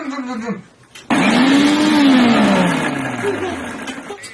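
A kitchen mixer grinder's motor kicks in abruptly and runs loud and close, its whine rising and then slowly sinking in pitch. A voice is heard briefly before it starts.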